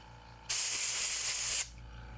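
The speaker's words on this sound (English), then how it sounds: "back over to the air compressor to blow out any excess" An air compressor nozzle blows a single sharp blast of compressed air through the bearings of an Ambassadeur 4500CS fishing reel, a loud, steady hiss lasting about a second against a quiet background.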